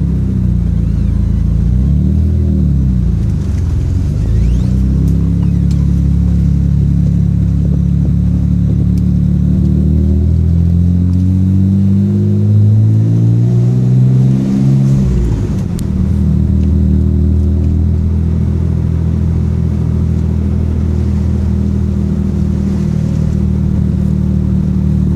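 A 1992 Mitsubishi 3000GT VR-4 engine on a short test drive, loud and close, droning steadily with rising revs through the gears, a sweep up and drop near the middle, then a steady cruise.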